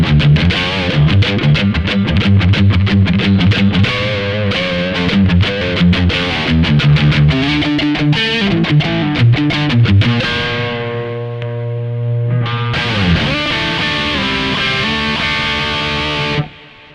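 Electric guitar on its single coil bridge pickup run through a Kemper Profiler with distortion, loud driven chords and picked notes that settle into sustained ringing tones, then a burst of strumming before cutting off.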